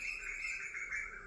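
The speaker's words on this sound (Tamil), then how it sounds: "குருவி சவுண்டு கேட்டுதா?" A sparrow chirps in a quick, continuous run of high tweets, moderately close and steady, with no voices present.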